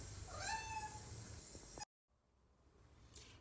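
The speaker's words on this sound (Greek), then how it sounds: "μου αρέσει να νιαουρίζω" A house cat meows several times close by, its drawn-out calls sliding in pitch, before a brief silence and a quieter tail of sound.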